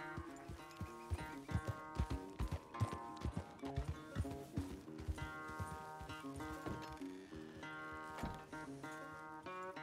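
A horse in the video game Red Dead Redemption 2 gallops with rhythmic hoof clip-clops under a layer of tonal game music, fairly quiet and continuous, with no voices.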